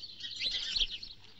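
A caged parrot in a street fortune-telling scene gives a quick run of high, bright chirps and tweets, fairly close and moderately loud, with no talk over it.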